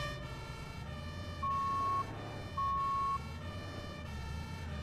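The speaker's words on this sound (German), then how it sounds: "Der ELW klingt so, als ist er gleich da." In the firefighting game Notruf 112, an approaching command vehicle's siren sounds as two steady tonal blasts over busy traffic rumble from a fire service response.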